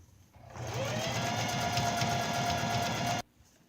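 A sewing machine running a straight stitch along an underwear waistband, a steady fast mechanical whir that starts abruptly, holds evenly for about three seconds up close, then cuts off.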